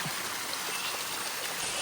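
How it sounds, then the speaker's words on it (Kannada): Water of the Sita river flowing nearby, a steady broad rushing wash with no breaks, fairly loud and close, with no voices over it. "ಸೀತಾ ನದಿಗೆ ಬಂದಿದ್ದೀವಿ."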